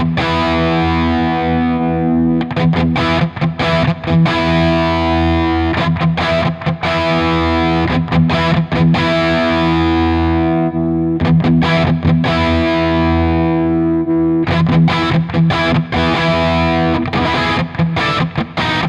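Heavily distorted electric guitar through a Neural DSP amp simulator with the mid-range switch engaged, played in loud sustained chords with brief pauses between phrases, no talking.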